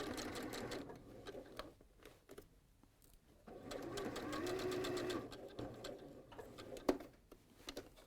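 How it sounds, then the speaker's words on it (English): A domestic sewing machine stitches a dress seam in quiet bursts, its rapid needle ticking starting and stopping as the fabric is pivoted, with light handling noises between runs. "we're going to sew down the one side and up the other"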